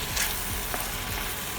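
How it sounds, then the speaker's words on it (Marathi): Chicken roasting on a hot tawa with ginger and garlic gives a steady, close sizzle and crackle that runs unbroken throughout, with no voices. "आपण याच्यामध्ये चिकन आता चांगल्या प्रमाणे एकदम भाजून घ्यायचं"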